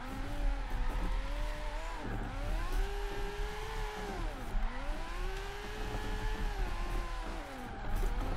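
A car drifts in Forza Horizon 3 on PC, its engine note steadily rising and falling through the slides with a constant loud drone and tire noise, no talking.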